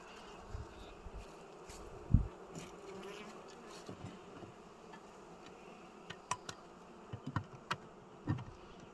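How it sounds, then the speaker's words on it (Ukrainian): Honeybees swarm close around a beekeeper at an abandoned apiary, a steady buzzing drone with sharper passes near the microphone and scattered clicks and knocks of frame handling, no talk. "Так, вже бджоли, вже повні рукава бжоль"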